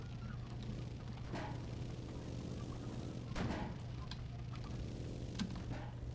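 Tank ammunition cooks off in a desert tank battle video game, with a few heavy booming bursts, the biggest midway, over a constant low engine rumble.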